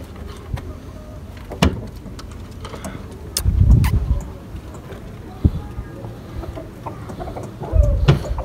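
A pet rooster clucks in short, scattered bursts near the listener among pigeons, with clicks and handling knocks between the calls, and faint voices now and then.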